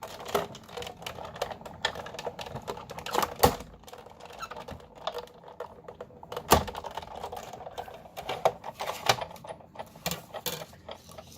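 A die cutting machine cranking plates through, a rapid series of clicks and ratcheting taps in bursts, close and fairly quiet.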